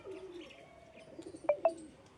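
Pigeons flying over a home loft, with one young bird among them, give soft cooing calls and then two sharp, brief chirps close together near the end, faint against a quiet outdoor background.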